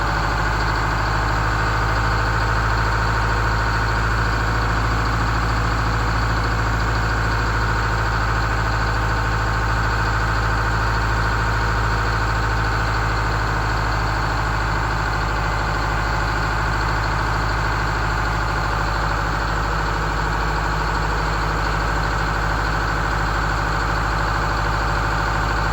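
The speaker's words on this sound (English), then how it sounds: "The engine sounds good" An RV engine idles steadily and loudly nearby, a constant low rumble with a faint whine on top.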